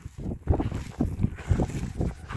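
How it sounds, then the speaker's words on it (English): Wind gusting at a BLM campground in the Sierras, low rumbling buffets over the microphone in uneven surges, close and fairly loud, with no speech. "Windy out here? It's a nice wind, though."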